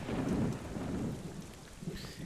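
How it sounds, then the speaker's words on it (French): Steady rain pours down with a low rumble of thunder rolling underneath, fading slightly toward the end. "Il n'arrête pas, elle n'arrête pas, la pluie."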